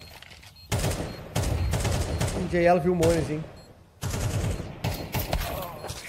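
Rapid bursts of automatic gunfire and crackling shots in a Counter-Strike match between G2 and NAVI at the BLAST Premier World Final 2023, coming in dense clusters around excited commentary.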